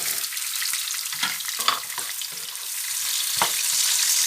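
Onions sizzle and fry in a pan for a lamb navarin, with a steady broadband crackle and occasional stirring clinks over a continuous hiss, close and moderately loud.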